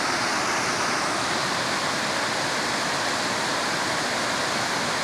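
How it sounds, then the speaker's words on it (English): A waterfall on West Creek in Tuxedo Park, water pouring down a long slant in the creek, gives a steady, full rushing roar with no pauses, close and even throughout. "Everybody forgets about this waterfall or long slant in the stream, in the creek."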